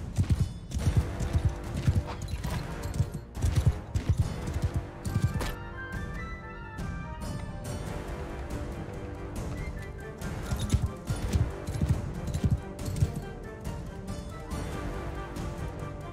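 Galloping horse hooves from the Mount and Blade Bannerlord video game, a fast continuous clatter of clip-clop beats mixed into busy battle and music sounds, steady and fairly loud throughout.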